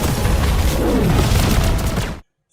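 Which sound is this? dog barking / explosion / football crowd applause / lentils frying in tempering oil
explosion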